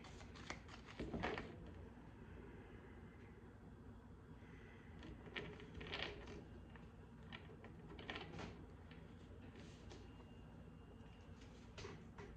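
Soft, quiet oracle card shuffling: repeated papery riffles and slides in uneven bursts, close by with no talking.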